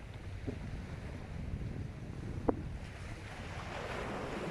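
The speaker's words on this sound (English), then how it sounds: "there's quite a bit of wind, and also there's a tiny little bit of swell" Wind buffeting and a gentle sea swell on the beach at Brook Chine, Isle of Wight, during an evening fishing session: a steady, fairly quiet rush with one brief sharp click midway.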